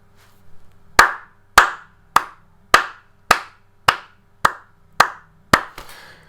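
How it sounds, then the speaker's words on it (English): Ten sharp hand claps in a steady, evenly spaced rhythm, close and loud, with no talking around them. "why am I even clapping? Why am I clapping?"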